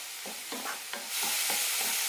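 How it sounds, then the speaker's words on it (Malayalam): Masala sautés in a pan for soursop (mullatha) curry, with rhythmic scraping stirs of a spoon against the pan over a soft frying sizzle that swells louder near the end. "മസാലയുടെ പച്ചമണം പോകുന്നവരെ ഒന്ന് വഴറ്റിയെടുക്കാം."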